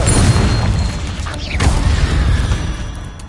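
A Confringo spell explodes in Hogwarts Legacy with a loud, booming blast and a sharp crack partway through, followed by a rumbling tail that fades.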